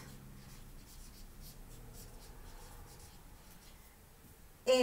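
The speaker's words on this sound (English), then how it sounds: "Let's write that down." A pen or pencil scratches steadily across paper in a quiet room, a soft continuous scribble that runs for several seconds before a sudden louder knock at the end.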